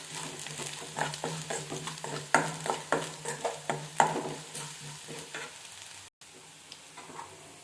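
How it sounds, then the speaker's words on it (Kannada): Spices for egg masala fry in a pan with a steady sizzle, while a spatula stirs in regular scraping strokes close to the listener. A brief dropout near the end interrupts it. "ಇದನ್ನು ಫ್ರೈ ಮಾಡ್ಕೊಳ್ಳಿ."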